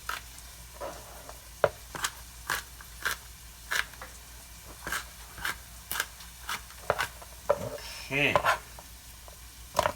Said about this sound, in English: So now you can see those onions are starting to simmer, starting to saute a little bit. You can hear them going.